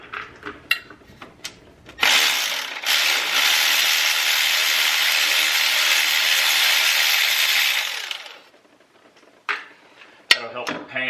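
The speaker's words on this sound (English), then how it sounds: "take out a couple more of our bolts in the back" A power tool whirs for about six seconds, removing transmission pan bolts on a GM 4L60e transmission, bracketed by scattered clicks and clanks of tools before and after.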